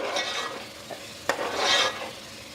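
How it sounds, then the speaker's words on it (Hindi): Ginger-garlic spice paste for chicken karahi sizzles and crackles softly in a pan, with a couple of sharp scraping stirs and a brief louder hiss, no voices. "ये देखिए, मसाला हमारा भून रहा है और इसको बहुत अच्छी तरह भूनेंगे"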